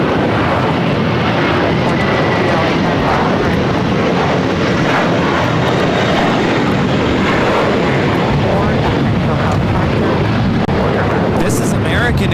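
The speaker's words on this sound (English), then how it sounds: "This is American Airlines Flight 4 taking off to JFK on the A321." An American Airlines A321 jet taking off at LAX: a loud, continuous broadband engine roar that stays strong and steady throughout, with no speech.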